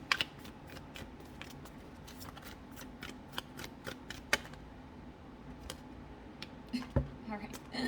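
Tarot cards are shuffled in quick, crisp bursts of riffling and snapping, close by, with a soft voice murmuring in the background.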